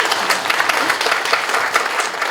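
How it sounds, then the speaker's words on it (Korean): Audience at a film production press event giving an actress a round of applause, brisk dense clapping, close and loud, with a slightly pulsing rhythm throughout. "응원의 박수 한번 보내주시겠어요?"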